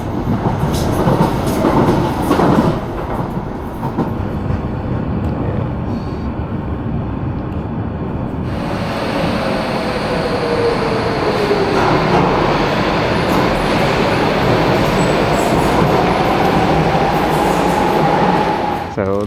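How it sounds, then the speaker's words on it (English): Automated light-rail train running through London's Docklands near Canary Wharf, with a continuous loud rumble of wheels and carriage, brief clattering early, then a rising whine and faint squeal as it travels, heard from inside. "It's an automated rail train that drives through the harbour area, the Docklands area, Canary Wharf"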